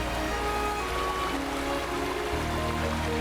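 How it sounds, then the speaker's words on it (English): Loud flowing water from the video game Wuthering Waves makes a dense, constant rushing wash that fills the whole moment without pause, and no one speaks over it. "I don't know why they made the water so loud in this game."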